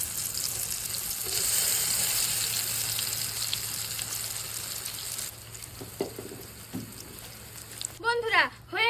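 Eggplant chops sizzle in hot oil with a loud, steady frying hiss that drops off partway through, followed by a few soft clatters and a nearby voice at the end.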